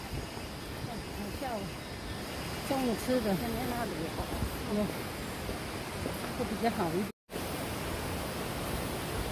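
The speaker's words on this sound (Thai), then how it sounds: "เราก็จะได้ ยินเสียงจักรจันครับ แล้วก็เสียงน้ำตก" A waterfall in a forest at Sun Sia sends out a steady, even rushing roar that fills the whole stretch, with someone talking softly over it and a brief dropout near the end.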